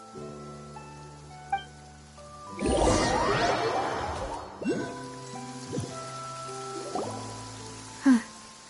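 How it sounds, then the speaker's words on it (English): Steady rainfall in Genshin Impact, a soft continuous wash of drops pattering on surfaces, set under a game's sustained musical tones with a few chimes and swells; no voices. "It's been raining non-stop for a few days now"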